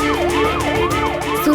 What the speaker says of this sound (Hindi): इस ट्रैफिक में तो ये एम्बुलेंस भी फंसी हुई है।